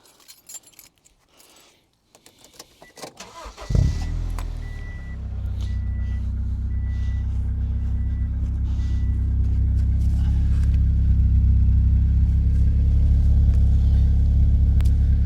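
Keys jangle and clink near the ignition before a car engine cranks and catches with a sudden loud burst, then settles into a steady low, rumbling idle that continues close by, with a faint repeating beep in the background.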